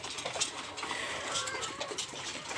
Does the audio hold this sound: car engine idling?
no